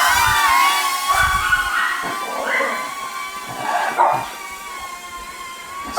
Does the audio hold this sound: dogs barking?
yes